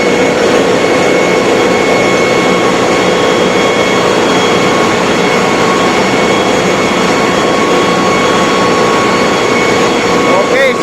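A main air compressor, a dual-stage piston unit driven by an electric motor, runs with a steady, loud mechanical drone and hum throughout, constant and unbroken, heard up close in an engine room.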